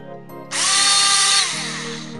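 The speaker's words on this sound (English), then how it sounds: "I'll change that for the outside deburring tool." An outside deburring tool trims a brass 5.68 TLR cartridge case: a short, loud whirring burst rises over a steady low motor hum, then eases back down.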